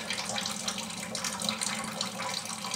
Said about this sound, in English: I'm pretty surprised at the amount of water coming down through there. Shows you how much is melting outside.